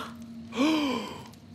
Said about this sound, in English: Wait, why are we gasping?